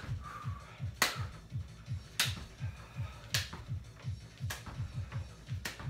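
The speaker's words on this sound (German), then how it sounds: "Du kannst auch oben gleich klatschen dazu." Sharp hand claps at roughly one-second intervals during a squat workout, about five claps over steady rhythmic low thumping music, fairly close and prominent.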